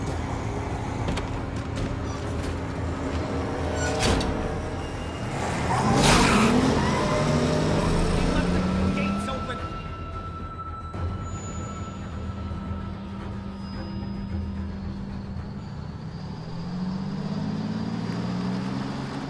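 Car engine running with tires skidding in a Walking Dead video game, a rushing roar that swells into a loud squealing slide midway, then settles into a steadier engine hum with faint tones.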